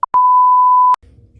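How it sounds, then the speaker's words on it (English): A single short electronic beep sound effect, a clean steady tone about a second long, loud and alone, preceded by a brief blip and followed by faint low room rumble. "We call it a beep."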